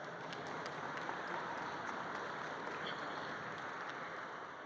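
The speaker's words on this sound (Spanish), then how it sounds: "Despidamos a nuestros panelistas con un fuerte aplauso." A conference audience applauds as the panelists are sent off, a faint, steady, even wash of clapping that holds unchanged from start to finish with no voices on top.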